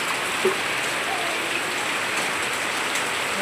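Steady morning rain falls outdoors, a dense, even patter on surfaces that holds constant throughout with no other sounds standing out.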